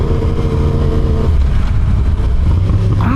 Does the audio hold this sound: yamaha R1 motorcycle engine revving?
yes